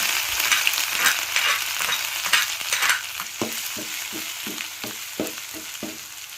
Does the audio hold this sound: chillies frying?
yes